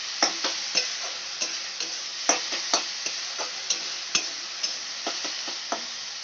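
Onions browning in a pan with a gentle, steady sizzle, punctuated by repeated sharp scrapes and clicks of a spoon stirring at an irregular rhythm, close and fairly quiet, with no talking.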